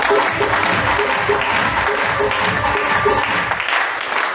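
Loud, sustained clapping from a large indoor seminar crowd, steady throughout and tapering slightly at the end.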